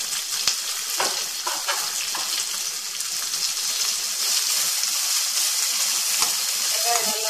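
Chopped onions sauté in a hot pan with a steady, close sizzle, broken by occasional scraping stirs of a spoon against the metal.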